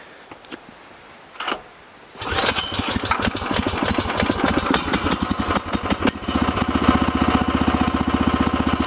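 A Jansen RD-300 Pro mini dumper engine stays quiet for a moment, gives a short cranking burst, then restarts and settles into a loud, steady, close idle with a rapid chugging pulse and no talking.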